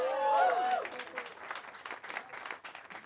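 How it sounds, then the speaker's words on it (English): A live audience at a comedy show breaks into applause: scattered clapping comes in fast after brief shouts at the start and fades slowly, with a voice briefly audible in the noise. "I heard some nopes, some claps."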